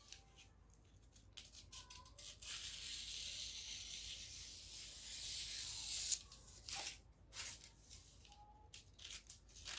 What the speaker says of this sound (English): Now we'll go ahead and cut out the pieces.